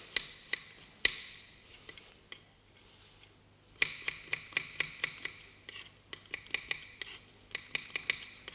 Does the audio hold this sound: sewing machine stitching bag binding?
no